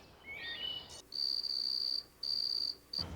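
A stick rubbed against a wooden wheel imitating a cricket: high, shrill chirping in three steady bursts, loud and close, with short gaps between them.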